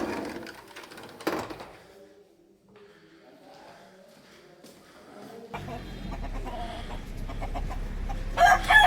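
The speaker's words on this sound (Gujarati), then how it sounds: "કુકડાના મધુર અવાજની સાથે સવાર પડી ગઈ છે" Rooster crowing at dawn in a hilly area near a temple, a few clucks and crowing calls heard at moderate distance, with quiet stretches between and a denser, louder background hum building in the second half.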